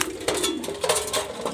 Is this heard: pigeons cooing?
yes